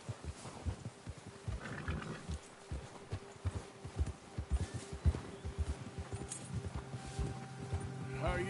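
A horse gallops in the Red Dead Redemption 2 video game, its hooves pounding in a steady, fast, close rhythm throughout, with voices talking over the hoofbeats.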